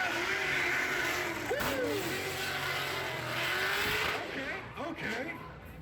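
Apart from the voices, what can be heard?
supercharged LS engine car drifting, tires squealing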